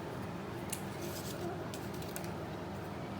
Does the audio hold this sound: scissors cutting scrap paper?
yes